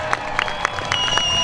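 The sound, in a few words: crowd cheering and clapping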